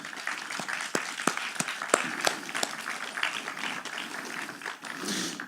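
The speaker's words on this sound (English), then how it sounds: "I'd like, please, to hear some applause for that gesture" Applause from a small crowd at an introductory speech, dense scattered claps held at a steady level for several seconds, heard alone with no talk over it.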